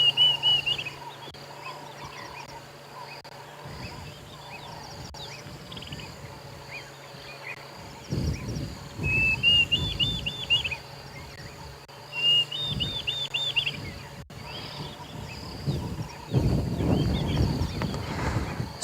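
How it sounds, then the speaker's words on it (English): Birds call in the African bush at sunrise, with several brief, high, warbling phrases sounding faint and distant over soft wind rumble and quiet background noise. "It's actually still lovely to hear that there are birds calling."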